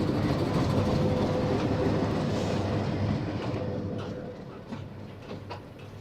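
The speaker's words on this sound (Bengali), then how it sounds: "দেখা যাক কোন ট্রেন।" A train hauled by locomotive 2404 arrives at Kaunia junction, a loud continuous rumble with clickety-clack of wheels that gradually eases and softens as it slows.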